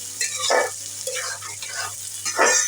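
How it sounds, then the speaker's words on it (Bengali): Thick-cut onions are stirred and fried in a pan, giving bursts of spatula scraping over a low sizzle, with a steady low hum underneath. "এবার আমি পেঁয়াজটা নেড়ে নিব।"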